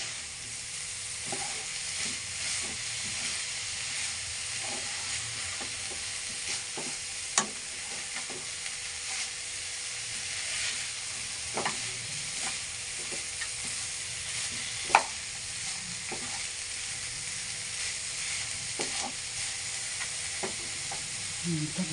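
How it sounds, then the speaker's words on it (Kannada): Onions and spices for a village-style country chicken sambar fry steadily on a low flame, giving a constant soft sizzle with occasional sharp clicks from a spoon stirring the pan, and no voices. "ಲೋ ಫ್ಲೇಮಲ್ಲಿ ಹಾಗೆ ಹುರಿದುಕೊಳ್ಳಿ"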